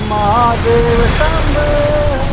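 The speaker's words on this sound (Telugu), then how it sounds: "వర్షం ఇప్పుడు కూడా పడుతుంది" A loud, steady roar of heavy rain during a ride, with a voice briefly audible over it.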